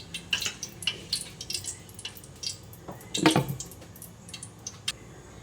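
Soft bubbling and popping of a pot of mung beans with eggplant simmering, with scattered small plops and one louder bubbling burst midway.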